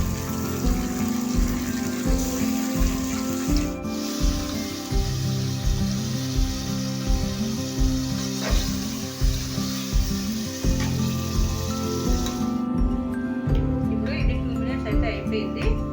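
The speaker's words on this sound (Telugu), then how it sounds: "ఇది ఒక 2 మినిట్స్ అయితే ఫ్రై చేస్తే చాలు చికెన్." Small chicken pieces fry in a pan for a chicken pasta dish, giving a steady sizzle with scattered pops. A person talks over it throughout against a continuous rhythmic background pattern, and the sizzle drops away near the end.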